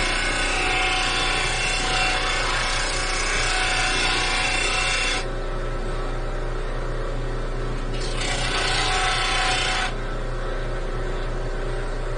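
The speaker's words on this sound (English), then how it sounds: "I went ahead and shaped that up on the grinder and gave it a little curve to it" A bench grinder shapes the wooden end of a three-string spoon fiddle with a steady loud motor whine and gritty rasping that gets quieter and louder as the piece is pressed and eased off.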